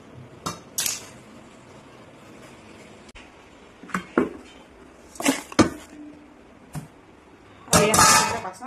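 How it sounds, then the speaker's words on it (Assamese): Dishes, pots and cutlery are being washed, with scattered clinks and clatters and a louder burst of rattling metal near the end, close by and without talk. "বাচন এইখিনি ধুই লওঁ"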